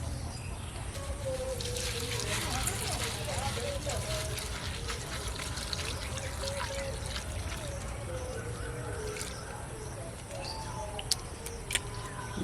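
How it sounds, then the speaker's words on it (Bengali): Flattened rice (chira) is washed in a bowl of water, giving continuous splashing and trickling with a pour-like wash. Someone talks over it, and birds call faintly in the background. "চিড়েটাকে আমি আগে ধুয়ে নেব।"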